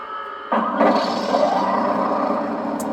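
Simulated engine roar from the built-in speaker of a 21st Century Toys 1/9 scale RC Abrams tank with a Heng Long TK-7.0 controller, starting up sharply and holding a loud, steady, rumbling drone.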